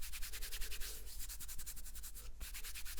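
Close-up hand rubbing and tapping on fabric and skin over muscle, a quick, even train of soft brushing swishes with a few duller taps, intimate and quiet with no voice.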